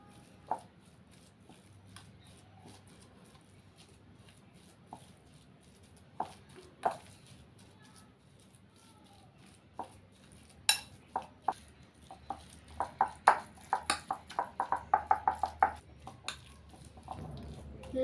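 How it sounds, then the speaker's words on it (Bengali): Raw mango pieces being mixed by hand with salt and turmeric powder in a bowl, giving faint, scattered soft clicks and taps that quicken into a denser run of light knocks toward the end, with no talking. "এবার হলুদ গুঁড়ো আর লবণ আমের সঙ্গে ভালো করে মিশিয়ে মেখে নেব"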